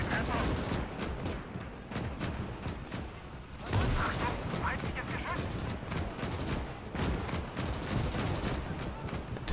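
Machine gun fire in Gates of Hell during a Battle of Moscow engagement with tanks, rapid continuous bursts and repeated shots filling the whole stretch, with people talking over the battle.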